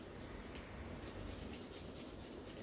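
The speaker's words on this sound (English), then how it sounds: "Rub your hands." Hands rubbed briskly together during a seated senior-citizen exercise session, a steady dry rasping friction sustained for a few seconds at close range, quiet and alone with no talk.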